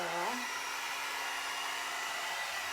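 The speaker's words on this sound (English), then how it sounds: "It's like high is high heat and high air volume." A hot air brush blows steadily on its high heat, high airflow setting, giving a loud, close, continuous whoosh with a brief motor pitch rise at the start and no talking.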